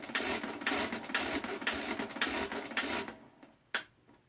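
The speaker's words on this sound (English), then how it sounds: "So we turn the crank handle 7 times." A mechanical calculator's crank handle turned by hand, giving about seven loud, rapid whirring-clicking bursts in a steady rhythm before it stops, followed by a single sharp clack.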